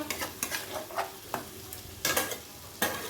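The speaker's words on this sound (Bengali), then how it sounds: "তারপরে ম্যারিনেট করা চিকেনটাকে আমি দিয়ে দিলাম, দিয়ে ভালো করে চিকেনটাকে আমি কষিয়ে নেব।" Marinated chicken for biryani sizzles in a pan while a utensil stirs it. Soft frying hiss runs underneath irregular scraping strokes that come roughly every half second, close and fairly quiet.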